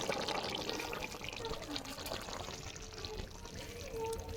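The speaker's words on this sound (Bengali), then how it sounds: "বিনস দিয়ে আলু টমেটো ঝোল হয়ে গেছে এবার ঢেলে নেবো" Bean, potato and tomato fish curry is poured out of the cooking pot, making a continuous soft liquid pouring and trickling sound with faint background noise and no clear talk.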